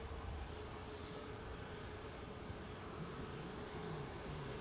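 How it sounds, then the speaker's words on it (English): Aer Lingus Airbus A330 taxiing at Manchester Airport, a steady distant engine rumble that holds without break, with a faint tonal whine riding on top and no voices. "Aer Lingus 330 is on the move now"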